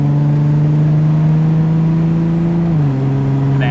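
Nissan S14 Silvia with an 8HP70 transmission swap, 800 horsepower, its engine droning loud and steady under throttle with a constant, slightly rising hum before a shift drops the pitch near the end.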